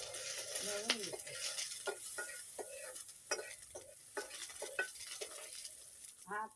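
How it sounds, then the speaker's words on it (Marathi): Chopped onion sizzling in a hot pan over a wood-fired stove while a spoon stirs it, with a steady close hiss broken by repeated short scraping strokes and soft clinks, and no talk. "आता मी घालते कांदा. कांदा घालून थोडा वेळ ढवळून घेते."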